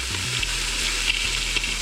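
Steady, close sizzling of venison browning in a hot pot, a continuous crackling hiss with occasional small pops, no voices.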